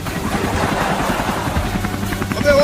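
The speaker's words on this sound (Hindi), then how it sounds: "हम इतने बड़े हेलीकॉप्टर से उड़ रहे हैं" Cartoon helicopter flying steadily, a constant loud rotor drone under a busy animated soundtrack, with a brief tonal whine near the end.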